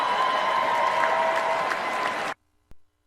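Loud, dense applause from a crowd, steady for over two seconds, then cutting off abruptly, followed by a brief faint thump.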